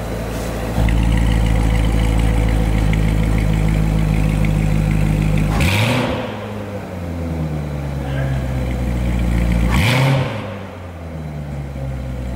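A deep, rumbling 6.2L V8 in a Corvette C7 with an X-pipe exhaust idles loudly, then is revved sharply twice, each burst rising and dropping back to a throaty burble.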